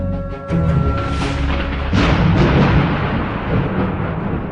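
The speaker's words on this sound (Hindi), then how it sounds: "आसमान में तेज बिजली कड़की और बारिश जो थोड़ी थमी थी, एकाएक फिर झमाझम बरसने लगी।" A sharp crack of thunder followed by a sudden return of heavy, pouring rain, loud and dense throughout; soft music-like tones linger underneath at the start.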